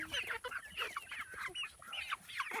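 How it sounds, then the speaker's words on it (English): Backyard chickens cluck steadily, a flock of growing hens with a rooster among them, giving close, busy overlapping clucks and short calls throughout with no talking. "This is a chicken update, and look at how big they are."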